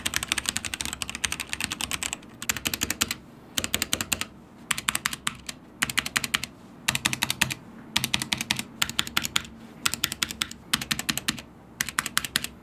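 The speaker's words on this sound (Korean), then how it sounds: "이거는 일단 타건부터 해보고 이야기를 마저 해보도록 하죠." Rapid bursts of typing on an NZXT Function MiniTKL keyboard with Gateron red linear switches, close and crisp, in clusters separated by short pauses.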